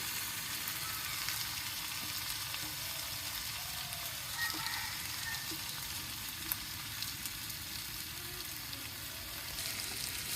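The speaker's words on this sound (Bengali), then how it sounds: "এই যে মাংস দিয়ে দেওয়া হলো এখন এখন ভালো করে কষিয়ে নিবে" Meat being fried and stirred in a pan, a soft continuous sizzle with faint scraping and occasional small clicks, fairly quiet and steady.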